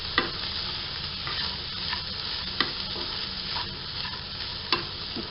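Gravy for kofta is mixed in a hot pan, with a steady close sizzle broken by a few sharp spoon scrapes against the pan at irregular intervals; no one speaks.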